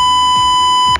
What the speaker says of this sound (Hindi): आप इस तरीके से बीप साउंड ऐड कर